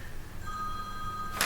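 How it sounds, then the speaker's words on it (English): A mobile phone rings in a quiet meeting room, giving steady electronic tones at moderate volume that stop abruptly, followed by a short burst of noise. "is that your fault? That's my phone."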